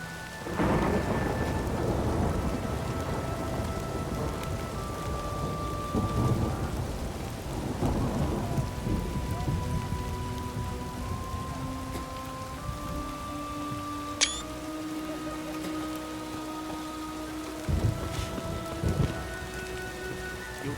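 Heavy rain pours in The Witcher 3 while thunder rolls and rumbles several times, deep swells rising over the constant hiss, with a sharp crack partway through and no voices.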